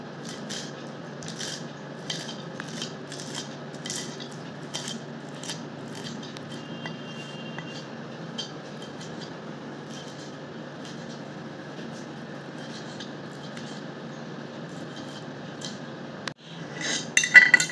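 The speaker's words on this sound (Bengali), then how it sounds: "এবার ধনে পাতাগুলোকে একটু ভালো করে কুচি করে নেব" Coriander leaves are finely chopped with a knife on a board, producing quick, light, fairly even taps over a steady low background hum, close by and faint, ending with a few louder knocks.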